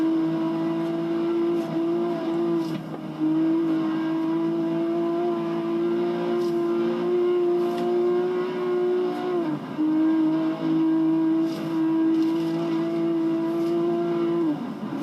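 The W Motors Lykan Hypersport's engine drones steadily in Forza Horizon 3, holding a loud, sustained tone with brief dips as gears shift or the throttle lifts, with no talk over it.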